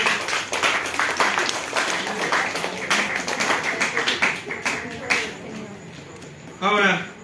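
A church congregation claps and applauds in a steady patter of hand claps, with a voice speaking in Spanish over it as the applause fades.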